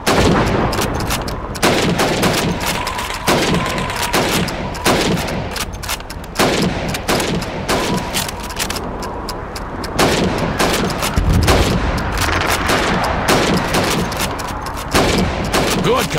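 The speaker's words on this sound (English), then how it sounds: "You have 15 seconds to shoot the helmets." Rifle fire at helmet targets in Call of Duty 2 Red Army training, a rapid series of loud, sharp gunshots at an uneven pace, with distant battle booms and brief voices now and then.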